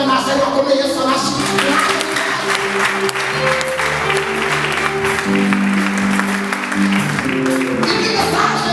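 A church congregation breaks into applause during a service, with sustained clapping mixed with voices and tonal singing or music underneath, loud and continuous throughout.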